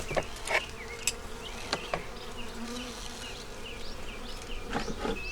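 Bees buzzing around a beehive, a dense droning hum with individual insects whining close past the listener at intervals, no talking.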